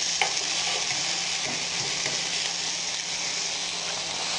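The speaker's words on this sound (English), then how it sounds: "good stuff frying over here" Food for a breakfast salad frying in oil in a pan, a steady, dense sizzle and crackle heard close up and continuously without talk.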